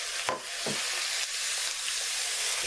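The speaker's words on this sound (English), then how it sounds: "Got 2 teaspoons of olive oil in the pan to warm back up, so I can hear it sizzling" Olive oil sizzles steadily in a pan, a bright continuous crackling hiss with a couple of scraping stirs early on.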